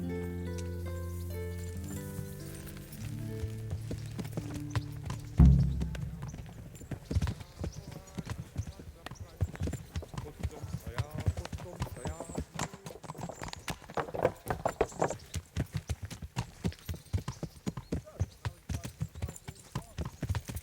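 Horse hooves clip-clop in the Kingdom Come Deliverance video game, starting after a loud thump near the beginning and continuing as a steady, close trotting rhythm with game music fading out early on.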